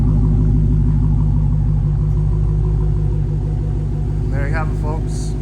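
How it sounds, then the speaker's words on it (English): A 2021 Dodge Challenger SRT Hellcat with a 6.2L V8 idles with a deep, loud, steady rumble throughout, close by, while a person speaks briefly near the end. "Nice rumble to it."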